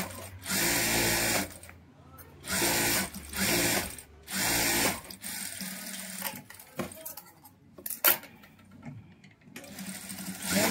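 Sewing machine stitching a silk saree blouse, running in several steady bursts of a second or so each, separated by pauses with fabric handling and soft clicks, close and fairly loud.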